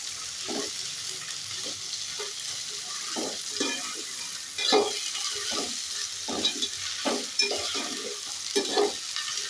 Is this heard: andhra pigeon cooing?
no